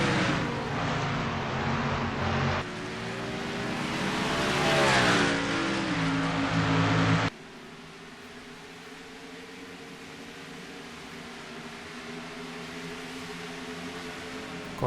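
Race cars roar and accelerate through the bus stop chicane at Watkins Glen in a racing video game. Loud, dense engine noise rises in pitch through a hard run, then drops sharply to a steadier, quieter drone.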